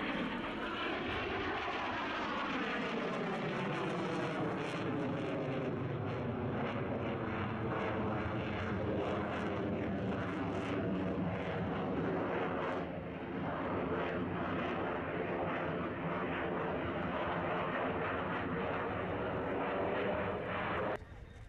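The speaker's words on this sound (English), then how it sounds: "it's a very impressive display indeed, as we've come to expect from the Belgian F-16" A Belgian Air Force F-16 fighter jet flying an air show display, its loud jet roar sustained throughout, with a sweeping pitch shift in the first seconds as it passes close by.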